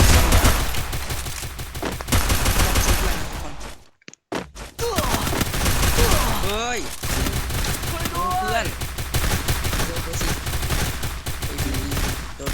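Rapid gunfire in the Free Fire battle game during a 4v4 ranked match, with dense bursts of automatic shots nearly throughout, a brief pause, then more firing with game effects under it.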